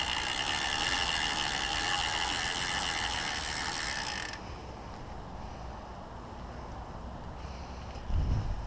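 A bicycle freewheel ticks steadily as the pedals are spun backward, its dense ratcheting clicks running for about four seconds before dropping to a quieter background with a soft thump near the end.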